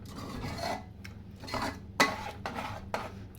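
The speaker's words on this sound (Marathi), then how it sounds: "अजून एक 2-3 मिनटं मी त्याला मिक्स करून घेते" A spoon stirs a thick, creamy mixture in a large cooking pot for a 25-person order, making repeated close rasping scrapes against the metal in an uneven rhythm, with one sharper clink partway through and no talking.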